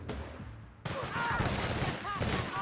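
Gunfire from a weapon in The Outer Worlds video game, with a burst of sharp shots after a brief lull, set against game effects and a speaking voice.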